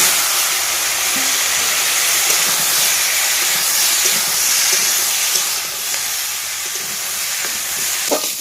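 Chopped garden vegetables hitting hot oil in a village kitchen pan after fried onion, garlic and five-spice seeds, giving a loud, steady, hissing sizzle that runs unbroken throughout.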